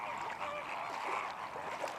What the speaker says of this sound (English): The flamingos are by far the most spectacular visitors to Point Calimere.